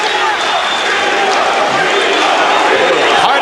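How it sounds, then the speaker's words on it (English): A large boxing-arena crowd roaring loudly and continuously, chants and booing blending into a dense wall of noise, with commentators' voices over it. "Part of the crowd chanting Chico, Chico, Chico, and much of the rest of the crowd begins to boo"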